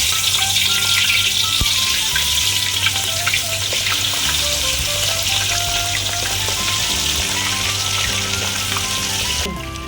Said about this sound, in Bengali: মাছগুলোকে আমি ভাজছি